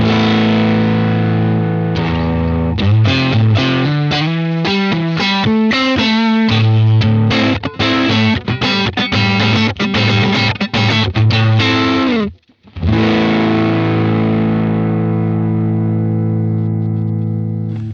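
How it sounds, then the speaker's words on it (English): Distorted electric guitar played through a Boss Space Echo RE-202 tape echo with the drive turned up, producing a loud, dirty, sustained run of chords and notes with echo repeats, a brief dropout, then a long ringing tone, and no talking. "if I turn it up even more, it's going to get even more distorted"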